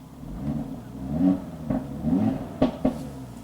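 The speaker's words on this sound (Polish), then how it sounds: "Dlaczego Audi robi tak, że jak odpalasz samochód, to za chwilę zamykają się klapy w wydechu?" An Audi car engine starts and its exhaust flaps close, giving a low rumbling idle that swells in short revving surges, broken by a few sharp clicks and thumps near the end.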